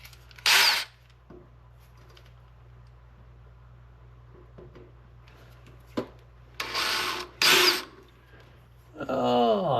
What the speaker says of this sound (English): let's see if we can center punch some holes and drill them